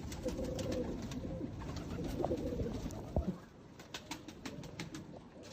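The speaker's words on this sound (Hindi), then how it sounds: "प्योर दोस्तों टैडी कबूतर है।" Low, rounded cooing of a Teddy breed racing pigeon in a loft, soft repeated calls close by with faint wing flutters and rustling in the background.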